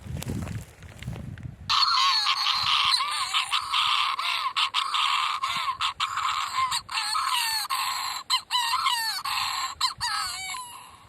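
A recorded call of a burrow-nesting seabird played down an underground burrow, a loud, continuous run of warbling, chattering calls with repeated rising notes, close and steady after a brief low rumble at the start.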